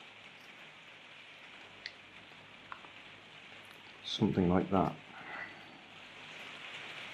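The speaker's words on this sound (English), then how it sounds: "You can probably hear it's raining hard outside." Steady rain patters outside in a constant wash of drops, with a brief spoken phrase close by partway through.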